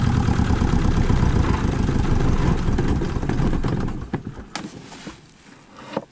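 A boat's engine idles in a steady, loud, low rumble, then cuts off, leaving a few scattered clicks and knocks as the sound dies away.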